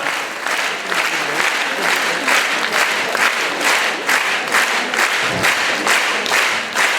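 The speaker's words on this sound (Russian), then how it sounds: "Спасибо, зритель, за столь теплые аплодисменты" Concert audience at the Mordovia State Philharmonic season opening applauds warmly in a hall, with steady dense clapping that stays loud and even throughout.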